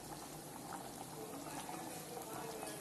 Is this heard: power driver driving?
no